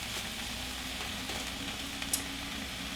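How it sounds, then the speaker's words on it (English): Zucchini and onion cook in a pan with a soft, steady sizzle heard up close, quiet and even, with a faint clink near the end. "And then you want to let those zucchini cook."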